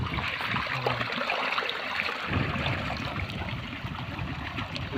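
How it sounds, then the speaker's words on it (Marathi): Water from a well motor gushes under pressure out of a 2-inch pipeline outlet, making a steady, loud rushing spray that holds even and continuous. No one speaks over it. "3 जागेवर पाणी काढलेलं आहे, जेणेकरून प्रेशरनं पाणी मारेल"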